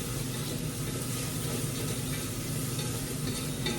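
Green chili, ginger, garlic and onion sizzle steadily in hot oil while being stirred, a continuous close crackling hiss with no talk.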